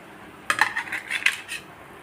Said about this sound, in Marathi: आता ह्या आपण डिशमध्ये काढून घेऊया